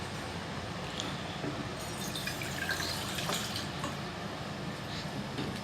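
A steady stream of water, 1.5 cups, splashes into a pot for masala tea, a continuous close pour with a constant hiss and no pauses.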